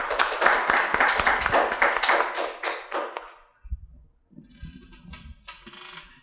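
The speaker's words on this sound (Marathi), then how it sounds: "एक टाळ्या होऊ जाऊ" A small audience claps at a health interview program, a warm burst of hand claps that lasts about three seconds and then dies away. Quieter bumps and shuffling follow.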